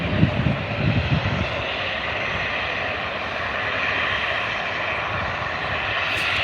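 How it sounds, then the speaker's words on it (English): A Jet2 airliner departing an airport for Izmir roars with a steady, loud, broadband jet engine rumble that holds evenly throughout, with a slightly stronger low swell at the start. "So this is the Jet2 going to Izmir in Turkey."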